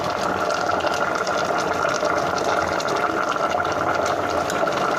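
A steady, continuous pour of chicken curry broth being drained off while making Malabar chicken biryani, a full rushing liquid sound that holds at an even level throughout with no break.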